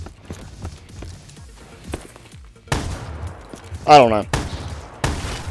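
Gunfire in Black Ops 3 custom zombies, sharp close shots ringing out singly and in a short burst, alternating with footsteps and quieter stretches, while someone talks in between.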